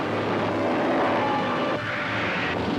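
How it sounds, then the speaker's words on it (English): An F-51 fighter plane in flight with other planes in formation during a combat strafing run, a steady loud engine drone with no talk. "We're riding an F-51 as another plane peels off ahead."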